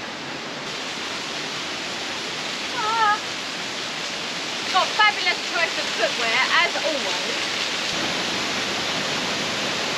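A waterfall in North Bali roars as a steady, broad wash of falling water that fills the whole clip, with people talking briefly over it.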